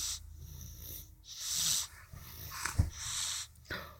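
A puppy snorts and snuffles close by in short, irregular bursts, with breathy huffs and scuffling as it plays.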